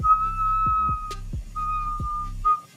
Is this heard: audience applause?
no